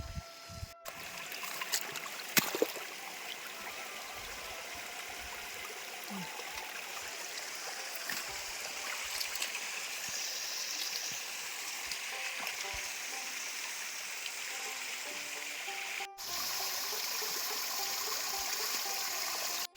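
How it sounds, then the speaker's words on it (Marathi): A small waterfall on a hillside stream splashes and trickles steadily, a constant soft rushing water sound heard up close with occasional small clicks and knocks. "हा बघा छोटा वॉटरफॉल"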